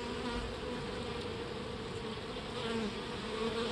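Honeybees buzz steadily and densely at close range around an open hive during requeening, a continuous drone that swells slightly toward the end with no talking.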